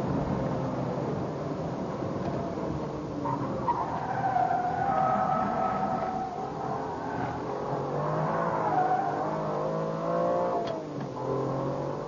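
A Formula 1 car brakes hard at Silverstone, its engine note dropping under a steady roar of wind and road noise, with a brief skid-like rasp as it slows.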